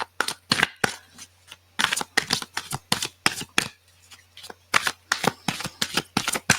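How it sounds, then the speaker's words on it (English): A deck of oracle cards being shuffled by hand in a quiet room, a rapid run of crisp riffling bursts with brief pauses between, close and fairly loud. "I'm just going to give the cards one big shuffle"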